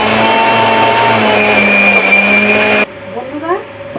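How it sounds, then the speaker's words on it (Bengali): A kitchen blender grinds onion, chili and garlic into a paste with a loud, steady whirring drone that stops abruptly near the end, leaving a few faint knocks. "এবারে এটা আমি পেস্ট করে নেব।"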